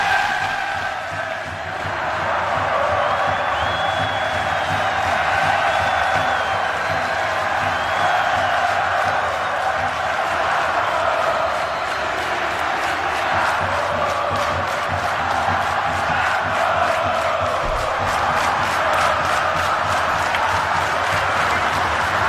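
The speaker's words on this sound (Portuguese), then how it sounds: "nesse momento o Fluminense está em campo, recepcionado por sua apaixonada torcida" Fluminense supporters cheer and roar throughout at Engenhão stadium as the team takes the field before a 2011 Brasileirão match against Vasco, with a dense, steady crowd noise, whistles and chanting, and a commentator's voice faintly mixed in.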